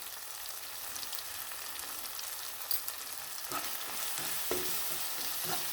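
Okra with coriander and sambar powder in plenty of oil sizzles softly in a pan, with a few scraping stirs and light clinks rising over the quiet frying hiss toward the end.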